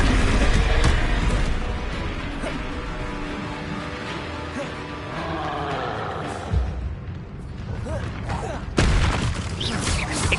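In the video game Hogwarts Legacy, Bombarda blasting spells set off repeated heavy booms and crackling bursts amid dense combat noise. The blasts are loud and come in several waves, with a sharp burst near the end.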